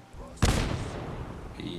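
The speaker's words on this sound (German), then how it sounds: "Granate." A grenade detonates in the video game Fallout 4, a sudden loud close blast followed by a long rumbling decay, with game sounds and a voice around it.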